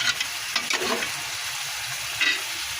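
A meat curry cooking slowly in a pot on the stove, with a soft continuous bubbling sizzle and a few brief stirring scrapes early on and near the end, close and moderately loud.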